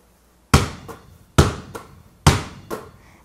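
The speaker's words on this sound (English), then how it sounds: "This is a regular basketball sound." A regular basketball bounced on a hard floor, three loud, sharp bounces at a slow, steady pace, each with a quicker softer rebound and a short ringing decay, heard close with no voices.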